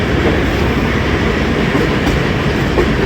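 The Karakoram Express rolls along the rails between Faisalabad and Lahore, a loud continuous rumble and rattle heard from close by, with no talking.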